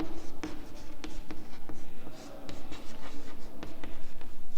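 Chalk or pen writes steadily on a board during a physics lesson, with continuous scratchy strokes and short taps, close and moderately loud.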